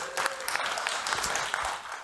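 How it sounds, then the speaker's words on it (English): A crowd applauds thanked in-kind partners at a Food Tank event during Sundance, dense and steady clapping filling the short stretch without any talk over it. "Give them all a round of applause"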